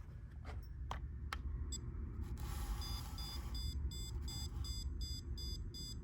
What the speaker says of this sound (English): stud scan mode just continues to beep